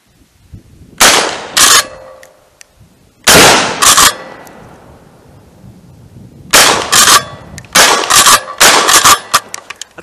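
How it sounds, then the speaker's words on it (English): Mossberg Maverick shotgun firing OPSol mini shells outdoors, several loud sharp blasts in clusters with short echoing tails, two early shots then a quicker run of four or five near the end. "I noticed I'm shooting high with these little minis for sure."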